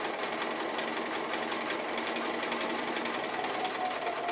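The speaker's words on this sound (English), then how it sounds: "Now I'm just going to come back up on the same line of stitching" A sewing machine stitches an appliqué cookie design with cream filling, running steadily with a fast, even rattling rhythm close to the microphone and no talk.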